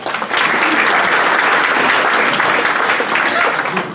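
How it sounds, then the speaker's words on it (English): An audience at a Rotary Club meeting gives Fred Cowan a round of applause. Loud, dense clapping fills the room and holds steady for several seconds. "Round of applause for Fred Cowan."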